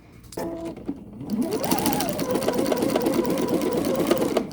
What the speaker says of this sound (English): The needle goes in, but while it's going in and out, it's doing a zigzag.